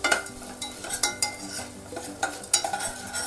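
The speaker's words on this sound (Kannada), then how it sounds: "ಈಗ ಧನಿಯಾ ಹಾಕ್ಕೊತಾ ಇದ್ದೀವಿ. ಎಲ್ಲದನ್ನು ಸಣ್ಣ ಉರಿಯಲ್ಲೇ ಫ್ರೈ ಮಾಡ್ಕೊಳ್ಳಿ" Coriander seeds roasting in a pan over a low flame for vangi bath masala, with a spoon stirring and scraping in irregular clatters above a soft sizzle.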